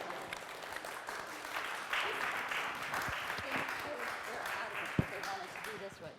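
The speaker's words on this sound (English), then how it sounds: "Oh, let's clap for them as they enter." Quiet classroom clapping as children walk in to present a project, a soft spread of hands with murmured voices and a few sharper knocks and thumps in the room.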